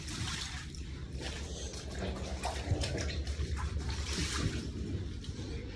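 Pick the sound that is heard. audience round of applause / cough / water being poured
water being poured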